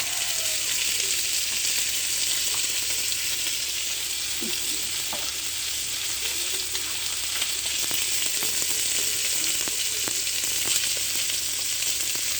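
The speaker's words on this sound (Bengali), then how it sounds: "আর মাছ ভাজা হচ্ছে, মাছগুলো ভাজা হচ্ছে, আর মাথাটা দিয়ে দিলাম।" Pieces of grass carp and the fish head fry in a hot pan, giving a steady, continuous sizzle and crackle with small pops, close and even throughout, with no talking.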